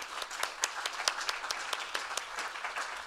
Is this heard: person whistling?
no